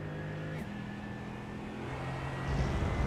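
Race car engine in a Sebring racing video game holding a steady drone through a braking zone, the note dipping and shifting mid-clip, then rising louder toward the end as power comes back on.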